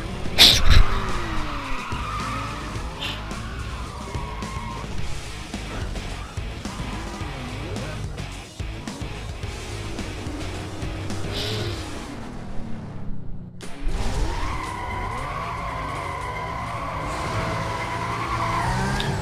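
Cars race and skid in the Need for Speed Most Wanted video game, with revving engines, long tire squeals and sliding through turns, loud and continuous apart from a brief gap near the end.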